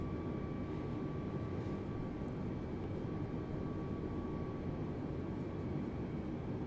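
Steady, even engine and airflow drone of an Airbus A320 on final approach in Microsoft Flight Simulator 2020, a constant low rumble with a faint tonal hum and no other sounds.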